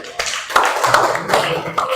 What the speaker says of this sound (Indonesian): kita awali dulu dengan tepuk tangan